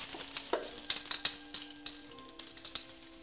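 Onion frying in oil in a pan for a ranchero-style beef steak in tomato sauce, giving a close, steady crackling sizzle with sharp spits and pops and no voices.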